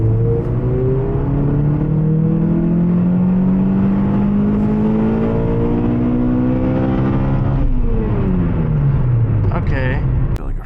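A Toyota Matrix XRS accelerates hard up an on-ramp, its engine revving up through the range, dropping briefly at a gearshift and climbing again, loud and close from inside the cabin.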